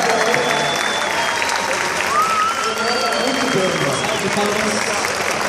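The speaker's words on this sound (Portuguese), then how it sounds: "palmas para o convidado" An audience at Campus Party Recife 2014 claps for a guest on stage, loud continuous applause with voices and cheers mixed in throughout.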